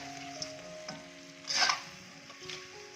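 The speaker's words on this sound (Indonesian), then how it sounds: "Ini kita aduk terus ya, jangan sampai gosong." Chicken fries dry in a pan, cooked without oil in its own rendered fat while being stirred; a soft continuous sizzle carries occasional scraping clicks and one brighter burst of crackle midway, with no talking.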